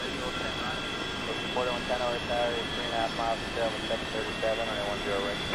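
A FlyJSim Boeing 737-200 jet airliner in X-Plane 11, its engines holding a steady, loud whining roar while a voice talks over it throughout.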